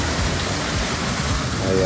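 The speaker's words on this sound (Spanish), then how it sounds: "Esta es nuestra cascada en casa que tenemos." Water pours down inside a flooded house like a waterfall. A steady, close, broadband rush fills the moment, with a voice faintly beneath it.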